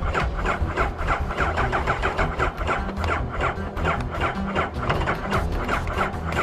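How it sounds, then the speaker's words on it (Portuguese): A motorcycle engine misbehaves after a ride, running loud and steady with a rough, uneven mechanical rhythm and irregular sputtering pulses throughout, close to the listener. "This biker was finishing with his ride when his bike started to act weird."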